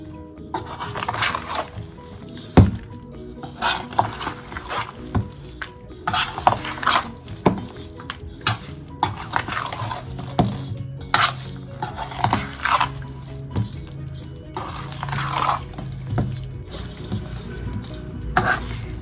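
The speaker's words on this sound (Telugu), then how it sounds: "పోపు చింతపండు గుజ్జు అన్నీ ఉడకపెట్టుకున్నాను కదా అది కూడా కలిపేసా" Amla pickle is stirred by hand with tamarind pulp and hot tempering, giving wet, squishy mixing sounds and occasional clinks of a utensil against the container. The sounds come in irregular bursts, close and fairly quiet.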